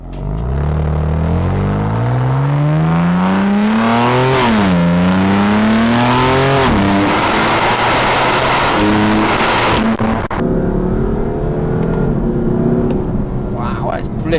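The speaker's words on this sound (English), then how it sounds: "the exhaust still sounds pretty mega anyway." A BMW M4's exhaust blares as the car accelerates hard through rising gear pulls, loud and close, each shift dropping the pitch before it climbs again, then settling into a rougher rumble at the end.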